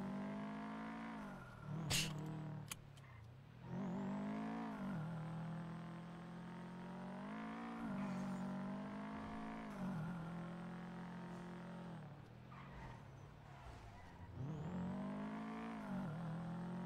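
S+ Subi car engine in the video game GTA NoPixel, revving repeatedly through rising gears with smooth whining climbs and drops, loud and continuous, no voices.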